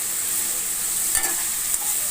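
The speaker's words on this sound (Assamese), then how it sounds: "পিঁয়াজখিনি লাহে লাহে ভাজি আছে আৰু লাহে লাহে পিঁয়াজৰ ৰংটো সলনি হ'বলৈ ধৰিছে" Onions frying slowly in oil, a steady soft sizzle with occasional stirring scrapes, no voices.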